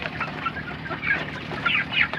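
Several chickens clucking and chattering nearby, a busy flock with soft overlapping calls and no talking.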